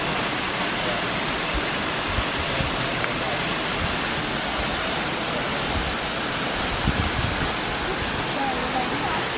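A powerful waterfall pours inside a grotto, a loud, dense, unbroken roar of rushing water that stays close and steady throughout.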